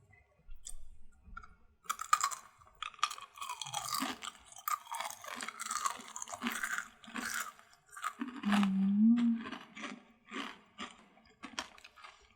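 Crunchy jelly chewed up close for ASMR eating, a run of crisp, wet crunches and clicks in irregular bursts, fairly quiet and close to the mic with no talking.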